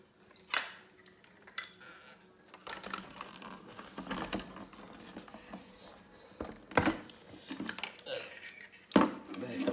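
Plastic parts of an R2-D2 model assembly being turned over and handled on a table: irregular hard clicks, taps and clatters, with a few sharper knocks, close and fairly quiet.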